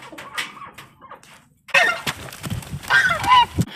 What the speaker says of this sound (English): All the geese got out.